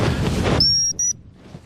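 A dog training whistle gives two short, sharp blasts close by, the first longer than the second, used on a five-month-old English Cocker Spaniel out in a bird field.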